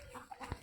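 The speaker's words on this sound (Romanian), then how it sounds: "O găină." A chicken gives a brief, faint cluck or two at a farmyard where ducks and turkeys are also kept, after rain.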